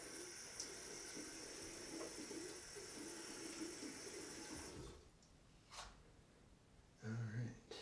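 Running water pours steadily from a tap during a shave for about five seconds, then cuts off, leaving quiet room sound with a brief splash and clatter near the end.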